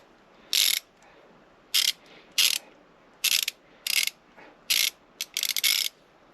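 A ratcheting tool clicks in short, loud bursts while turning a screw extractor in a stuck round-head socket screw, with about eight separate runs of close clicking and pauses between them.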